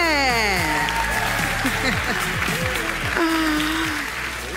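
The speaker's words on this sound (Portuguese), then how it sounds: "Mais palmas, gente!" Audience applause at a diversity and inclusion summit, a dense wash of clapping under amplified music with gliding tones and a voice speaking over the room.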